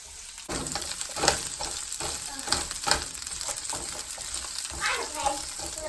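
Salmon and asparagus stirred in a hot frying pan, a steady sizzle with repeated soft scraping strokes of the utensil, close and continuous with no talk.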